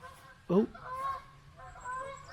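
A single loud honk from a goose or swan near a sandstone cave in Kent, followed by softer calls and faint background murmur.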